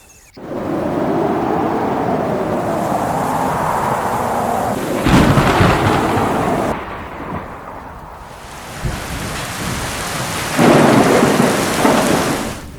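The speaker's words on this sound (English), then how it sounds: "When the brief rains arrive between December and March, the Serengeti awakens." Thunderstorm over the Serengeti plains with heavy rain, a long rolling rumble of thunder over steady downpour, then sharper loud cracks and a second swell of rumbling.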